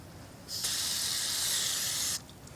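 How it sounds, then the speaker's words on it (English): Cleaner sprayed onto a rag for a sticky gas pedal on a 2001-2007 Ford Escape: a steady spray hisses for about a second and a half, then stops abruptly, with a faint room background before and after. "what we're going to do is spray this right on the rag."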